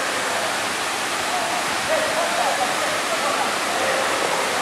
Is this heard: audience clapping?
no